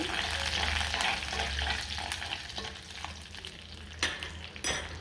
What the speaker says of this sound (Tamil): நம்ம கொஞ்சமாக கருவேப்பிலை சேர்த்துக்கலாம் கருவேப்பிலை இந்த எண்ணெயில் நல்லா